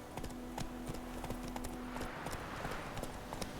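Horse hooves clip-clop at a steady trot in The Witcher 3, with evenly spaced clear hoof strikes over a low game background hum, close and moderately loud.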